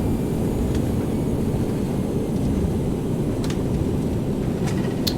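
Airbus A319 in a flight simulator on landing rollout with reverse thrust, a loud, steady, broadband engine roar with a few faint clicks on top.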